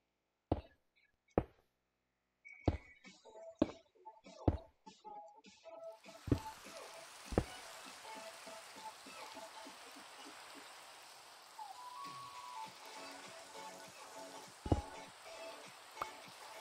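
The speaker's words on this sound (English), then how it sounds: "Oh my God, why did it have to rain to mess up my damn view?" Minecraft rain begins partway through as a steady, soft hiss of falling drops. Before it starts, sharp isolated chopping knocks sound over near silence, and a few more thuds sit under the rain.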